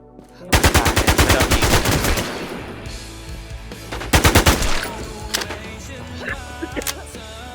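Gunfire in the video game Infestation The NewZ: loud, rapid automatic bursts close by, a long stream of shots, then a second burst and scattered single shots, with faint voices in the background.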